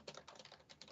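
Quick, light keystrokes on a computer keyboard patter in an irregular rhythm, faint and alone with no talk.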